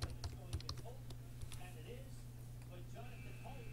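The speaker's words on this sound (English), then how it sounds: "I'm going to type live." Typing on a computer keyboard, a steady run of quick light key clicks close by, with a low constant hum underneath.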